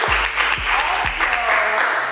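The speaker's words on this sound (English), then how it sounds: "So clap it up, clap it up." A live in-person audience claps for a moment while the host is on stage. The claps are quick, scattered and lively over the room's sound, with a few low booming thumps from the room or microphone mixed in.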